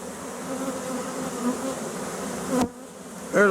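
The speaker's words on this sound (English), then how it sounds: "there's a lot of bees in there" A swarm of bees hums in a dense, continuous buzz close by, steady and loud throughout, briefly thinning near the end before swelling again.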